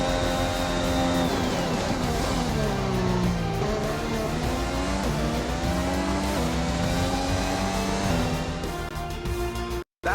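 Formula 1 race car engines from the F1 2021 video game scream continuously near and loud, revving through rising and falling gear shifts with tire squeal, ending in a sudden cutoff.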